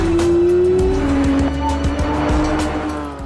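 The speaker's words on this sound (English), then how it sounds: "In a full throttle upshift, the transmission shifts from one gear to the next in less than 100 milliseconds." A Porsche 911 GT3 RS with PDK transmission revs hard at full throttle, its loud, close engine note dropping sharply as it snaps through a quick upshift, with no talking.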